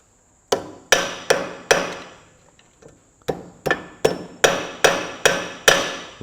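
A hammer strikes metal repeatedly while knocking out king pin bushes from a Massey Ferguson 65 tractor's front hub, sharp ringing blows close by, three in quick succession, a pause, then a steady run of about seven more.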